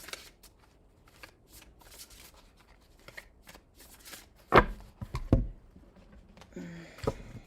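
Tarot cards are shuffled in soft, irregular riffles and slides, then a few sharper snaps and taps near the end, close and fairly quiet with no talking.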